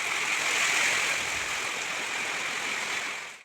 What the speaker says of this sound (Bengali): আর এদিকে দেখতে পাচ্ছ বৃষ্টি পড়ছে।